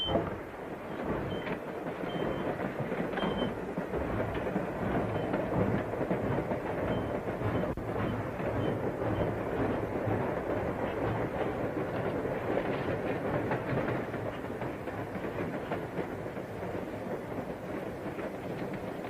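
A train runs steadily with a continuous low rumble and faint rattling throughout, heard from aboard a 1940s passenger train at night, with no voices.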